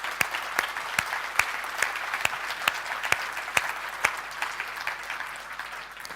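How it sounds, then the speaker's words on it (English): Audience applause at a celebration event for the JET fusion experiment, a sustained round of clapping from a sizeable crowd with distinct sharp claps standing out, steady and fairly close. "So if we can give them a clap."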